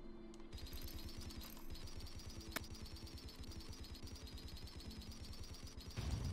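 In the space game Landinar: Into the Void, a weapon fires at a cargo container as a fast, even stream of repeated shots that runs steadily for several seconds, close and continuous.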